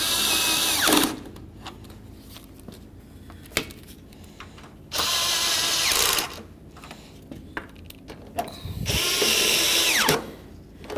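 Power tool snugging headlight mounting bolts on a 2007-12 Dodge Caliber, three loud, close bursts of whirring separated by pauses filled with quieter handling clatter.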